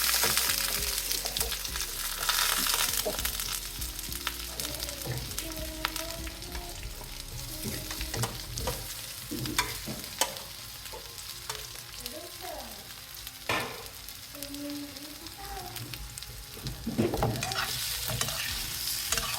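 Steady sizzling of leftover-rice snack pieces frying in a pan with chili flakes, with repeated scraping and stirring strokes throughout, close and fairly loud.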